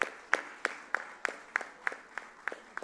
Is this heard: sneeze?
no